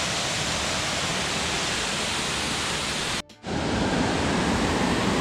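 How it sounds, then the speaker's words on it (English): Steady, loud roar of the Josefsthal waterfall in Bavaria, a dense continuous rush of falling water that drops out for a split second and then returns. "waterfall is really amazing."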